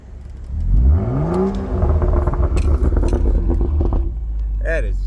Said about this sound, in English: Definitely a nice sound to that exhaust system.